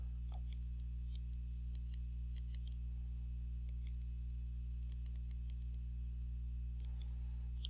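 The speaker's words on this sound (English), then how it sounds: "I am right-clicking on the map." Computer mouse clicks while right-clicking on a map, a string of quick, faint ticks scattered irregularly across the clip over a steady low electrical hum.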